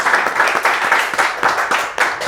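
An audience gives loud, brisk rhythmic applause for three young medical aid team members, with claps tightly packed and close throughout.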